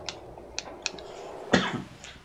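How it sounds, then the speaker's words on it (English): A person coughs several times in short, faint bursts, with one louder, harsher cough near the end, during a Zelda: Majora's Mask game stream with quiet background sound. "Sorry about the cough."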